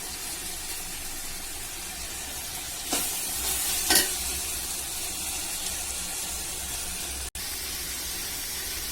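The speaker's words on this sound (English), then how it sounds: "Now I let it fry for about 5-10 minutes." Bay leaf and onions frying in a pot for beef biryani, a constant close sizzle with two short louder stirring scrapes near the middle, no talking.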